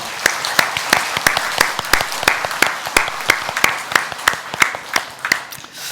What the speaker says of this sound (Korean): 우리를 이 땅에 오신 예수님께 경배와 찬양의 박수를 올려드리겠습니다